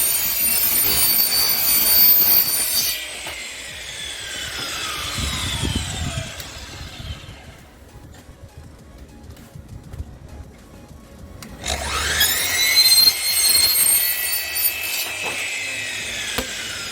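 A power saw slices through a wooden panel, cutting it in half in a workshop; the blade whines loudly at the start, winds down into a quieter stretch, then a second loud cut follows near the end, with no talking.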